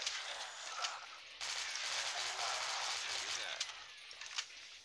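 Rapid sustained Gatling gun fire in the video game Dead Trigger, a continuous rattling burst lasting several seconds at moderate level with a few sharper shots near the end.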